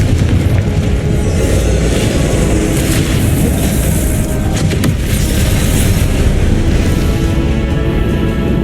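Confringo explosive spell in Hogwarts Legacy, a loud sustained rumbling blast with crackling bursts layered over a continuous booming roar.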